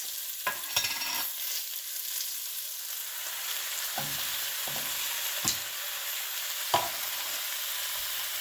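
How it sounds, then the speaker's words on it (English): Undrained lentils are added to peppers frying in a soup pot, giving a steady loud sizzle with a few scattered clinks and stirring knocks. "Then we're going to add in some undrained lentils."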